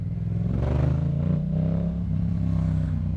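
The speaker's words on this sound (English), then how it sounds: "Trying to hit the gas a little hard to make people hear the motorcycle" A Yamaha MT-07 motorcycle engine rumbles steadily and revs up briefly while lane splitting, heard close with constant low droning and some road noise, no voices.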